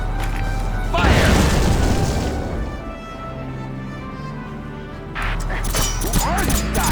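Cannon fire and a blast in Valkyria Chronicles Remastered, a heavy boom followed by a rumbling explosion that decays, then another burst of noise, with voices around it.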